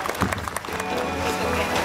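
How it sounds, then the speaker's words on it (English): An outdoor crowd at a theme park's dolphin show claps steadily for a couple of seconds, a dense busy patter with some cheering mixed in. "Give her a clap anyway."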